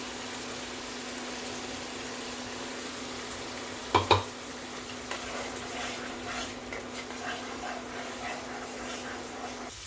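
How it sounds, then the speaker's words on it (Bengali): Spice masala with yogurt and cashew paste stir-fries on a low gas flame for a Bengali katla fish kalia, giving a steady close sizzle with one sharp clatter of the spoon partway through. "গ্যাসটা সিম করে আমি এটাকে ভালো করে কষিয়ে নিচ্ছি মশলার সঙ্গে"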